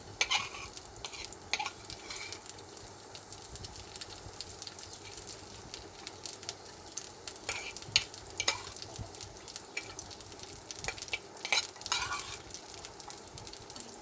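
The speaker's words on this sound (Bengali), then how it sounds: "এবার আমি ড্রাই ফ্রুটগুলো ভেজে নেব ঘিয়েতে" Cashews, raisins, pistachios and almonds sizzle steadily in hot ghee in a pan for sheer khurma, with a continuous frying hiss broken by occasional stirring scrapes and clicks close by.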